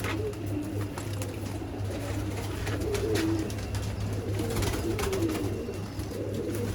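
Pigeons coo repeatedly in soft, low, throaty bursts against a steady background hum, with occasional wing flutters and small bird sounds throughout.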